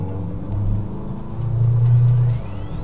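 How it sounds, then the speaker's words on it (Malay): A car in sports mode revs and accelerates with a deep, rising engine rumble that swells twice, heard from inside the cabin with no talking. "you turn on the sports mode and you feel the kick of this car"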